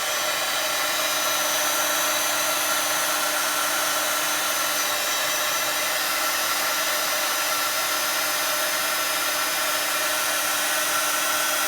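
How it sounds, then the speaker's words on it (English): A heat embossing tool blows hot air in a loud, steady whir with a constant hum, close and unbroken throughout. "I'm going to be using my heat tool, so it is going to be a bit loud"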